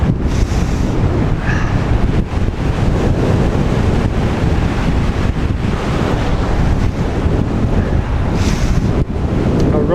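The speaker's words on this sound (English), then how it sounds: "Same kind of little headwind." Steady, loud wind noise buffets the microphone during a road bike ride into a light headwind, a continuous rushing roar with no voices.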